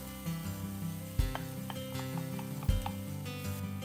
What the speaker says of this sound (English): Sauté until onion softens.